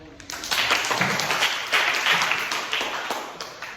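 A crowd claps steadily for a few seconds, a dense burst of applause that swells and gradually tapers off.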